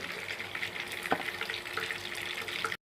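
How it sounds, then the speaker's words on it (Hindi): Karela mutton mince kebab balls fry in hot oil with a steady, close crackling sizzle and bubbling, a single sharper pop partway through, before the sound cuts off abruptly. "आपने इस तरीके से इसको फ्राई करना"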